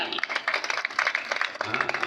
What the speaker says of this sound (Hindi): बात समझ में आई हो तो दूर दूर तक ताली बजाएं यार